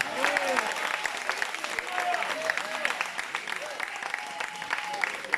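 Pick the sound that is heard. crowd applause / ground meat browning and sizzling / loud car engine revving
crowd applause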